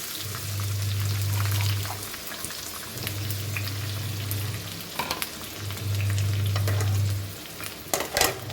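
Onion and curry leaves frying in a pan of oil and butter for pav bhaji, a steady close sizzle and crackle with three longer bursts of stirring and scraping, no voices.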